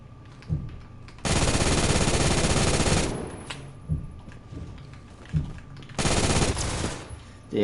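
Sustained bursts of light machine gun fire in the shooter game Phantom Forces, two long loud volleys with shorter pops and clicks between them, no talk over the shooting.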